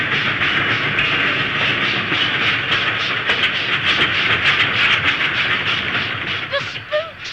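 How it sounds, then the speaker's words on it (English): A loud train rumbles and clatters through an underground tunnel with rhythmic clicking of wheels on rails, steady and close, fading slightly toward the end. "it's only one of those trains running through an underground tunnel"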